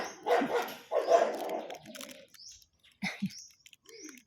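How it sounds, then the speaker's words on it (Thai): Two dogs bark back and forth at each other in short, scattered bursts at a moderate distance. Birds chirp faintly in the background. "เสียงหมากัดกัน ไม่ได้กัดหรอกค่ะ เห่ากันเฉย ๆ"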